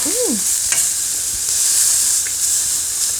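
Catfish pan-frying in a little oil gives a loud, steady, close sizzling hiss throughout, with a brief squeaky chirp at the very start and a faint utensil tap.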